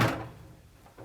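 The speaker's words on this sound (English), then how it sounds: "This door rubs, the left one does, the right one does not." A steel Sonic MSS locker cabinet door rubs as it swings, one short scraping creak up close, followed by a quieter pause and a faint second contact at the end.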